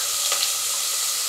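Onion and green chilli hitting hot oil for rice upma let off a loud, dense hiss of frying that holds steady for a moment, up close with no voices.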